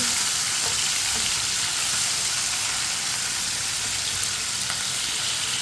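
Tomatoes, chopped chillies and masala cooking in a pan and stirred with a spoon, giving a steady, close sizzling hiss that runs unbroken throughout with faint spoon scrapes.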